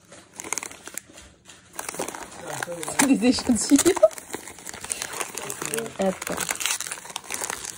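Paper crinkles and tears close by as taped Christmas gift wrapping is pulled apart, the rustling running under two people chatting in French.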